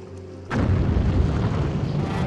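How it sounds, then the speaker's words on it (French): A hand grenade explodes in a James Bond film, a sudden loud boom followed by a sustained roaring rumble that fills the rest of the moment. "grenade à main."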